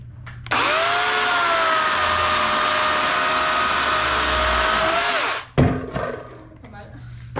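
A newly bought chainsaw runs at a steady high-pitched whine for about five seconds, loud and close, then cuts off abruptly, followed by brief rustling and faint voices.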